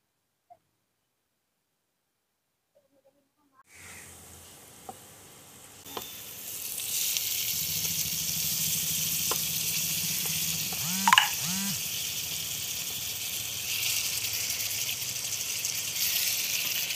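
Khichuri cooking in a pan in a village kitchen, a steady close sizzle and frying hiss that starts after a few quiet seconds, with occasional stirring clinks and bubbling.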